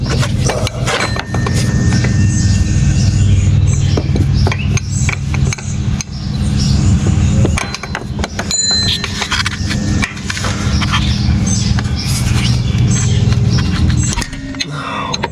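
A wrench works loose a bolt on the power steering pump of a 2012 Jeep Wrangler, giving repeated metallic clicks, clanks and taps that are close and fairly loud over a steady background hum.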